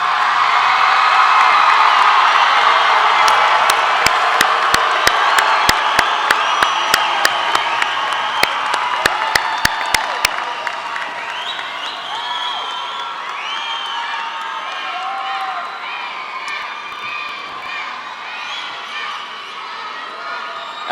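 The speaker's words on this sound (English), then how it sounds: "let's all please stand and give our graduates a round of applause" High school graduation crowd in a large hall cheering, whooping and applauding, with a dense roar of voices and scattered sharp claps early on, then fading into a lingering murmur with occasional shouts.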